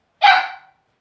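A dog named Sam in a home kitchen gives one sharp, loud bark up close, a single short burst that fades quickly into silence.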